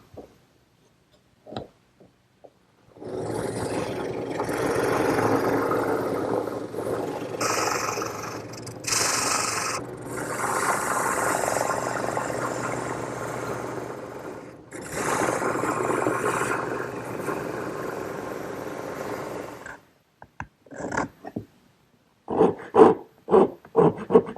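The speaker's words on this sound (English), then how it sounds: "Now all I have to do is smooth the edges with the drum sander" Drum sander smoothing the edges of wooden ladder-back chair pieces, a motor whine with rough grinding bursts as each piece is pressed in, in several passes separated by pauses and a few knocks.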